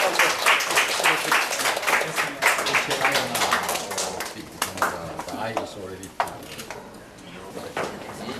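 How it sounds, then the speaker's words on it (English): Crowd applause at the inaugural flight ceremony for Palau Airways, a dense patter of clapping across the whole stretch with an announcer's voice speaking over it, fading somewhat toward the end. "Let's give them a big applause"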